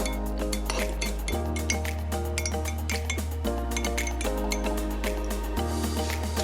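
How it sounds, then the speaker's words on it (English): Egg and cheese stirred in a mug produce rapid clinks and scrapes of a utensil against the ceramic, close and continuous, over a steady background of low music. "Crack the egg into the mug, throw in some cheese and give it a bit of a mix."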